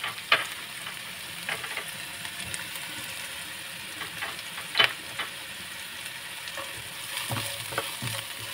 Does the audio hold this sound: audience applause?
no